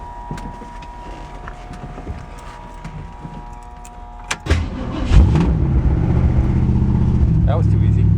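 A 1967 Ford Mustang coming out of storage cranks briefly, catches and fires up, then settles into a loud, rough, steady idle with rising engine rumble, heard up close.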